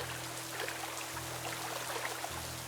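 Water pours and trickles steadily into a cave in an animated children's tale, a continuous close wash of splashing flow with no voices over it.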